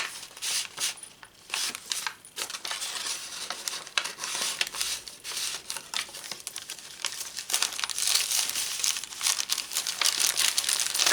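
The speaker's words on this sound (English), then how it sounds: "Another paper bag," A paper bag being handled up close, with repeated crisp crinkling and crumpling bursts in an irregular rhythm and no voices.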